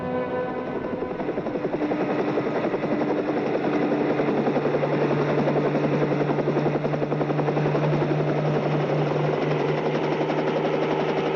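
Helicopter rotor thumps rapidly and steadily with a loud, close engine whine, continuous throughout without talk.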